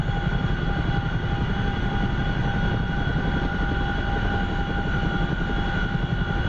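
Steady, continuous rotor and engine drone of a Huey helicopter in flight in the DCS flight simulator, loud and unchanging throughout with a constant tonal whine, no voices.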